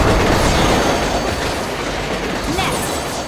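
A train in the video game Scarlet Nexus rumbles loudly and continuously, with a rolling rattle of wheels and a brief squeal near the end, while a voice talks over it.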